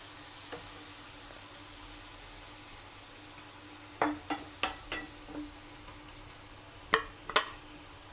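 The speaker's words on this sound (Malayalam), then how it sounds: "തക്കാളി നമുക്ക് ഇതുപോലെ ഇവിടെ വെച്ച് കൊടുക്കാം." Tomatoes and chicken frying in a pan, a faint steady sizzle under a handful of sharper pops and clinks near the end, with no talking.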